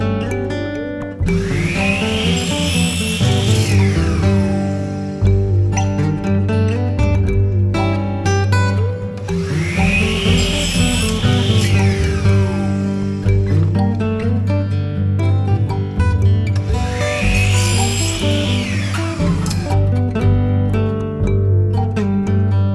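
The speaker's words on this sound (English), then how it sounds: "So I bought some 1/2-inch CPVC pipe to use as the dividers, and I'm going to cut that now." A power saw cuts 1/2-inch CPVC plastic pipe three times in a row. Each cut brings a loud rising whine that holds and then spins down, close up with no talk.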